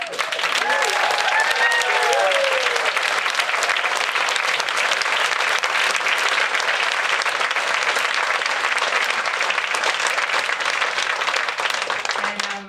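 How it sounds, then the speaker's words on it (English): A large crowd at a PechaKucha night event gives a loud, sustained round of applause lasting over twelve seconds, dense and even throughout, with a voice briefly audible at the start. "So do a big round of applause for all of us."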